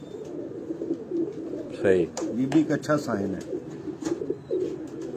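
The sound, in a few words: breeder pigeons cooing on Lahore rooftop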